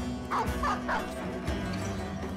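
A dog barks a few quick times in a video game, short yelps over a low background game hum.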